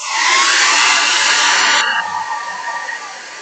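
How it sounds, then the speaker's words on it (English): A blow dryer blasts steady airflow onto thin white paint, a loud continuous hiss that holds strong and then drops to a softer, lower setting partway through. "Put your brush down, get the blow dryer,"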